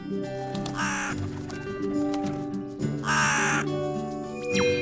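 In an animated children's cartoon, two harsh, loud raven caws, several seconds apart, ring out over a steady background of sustained tones.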